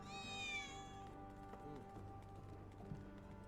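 A cat meows a couple of times inside a video game, a short rising harmonic cry near the start, heard over steady game background sound with faint voices.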